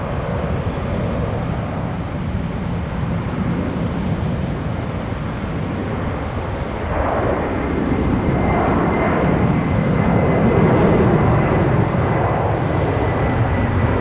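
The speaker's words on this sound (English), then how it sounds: "Here we go, Qantas 7525, 767-300 up to Hong Kong." A Qantas Boeing 767-300 freighter bound for Hong Kong takes off from runway 16 right at Sydney Airport, its broad jet roar steady and loud, then swelling stronger and brighter as it accelerates past, with no talk over it.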